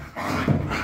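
A Laika hunting dog gives a short, close vocalisation, a brief bark or whimper lasting under a second, heard on its own without any talk over it.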